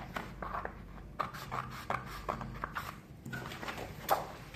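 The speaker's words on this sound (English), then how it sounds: "And now we'll cut out our pattern." Scissors snip through a paper bodice pattern in a run of short, close, fairly quiet cuts with small pauses between strokes, and no voices.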